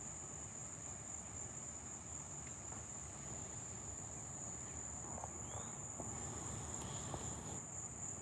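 Crickets chirp in a steady, continuous high trill over a low background rumble, with no voices.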